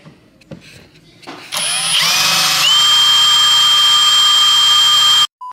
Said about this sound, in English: once you drill the hole, it's final.